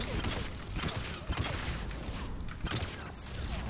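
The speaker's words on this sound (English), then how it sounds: "A lot of explosions going on here." Explosions and gunfire rumble in a Mass Effect 3 firefight, a dense, continuous barrage of blasts and bursts with faint sharper cracks throughout.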